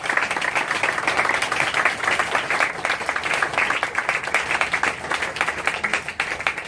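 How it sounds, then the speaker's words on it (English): A concert audience applauds the parents at a youth concerto concert, dense steady clapping filling the hall throughout without a break. "I'd like us all to give a big round of applause to all the parents who are here"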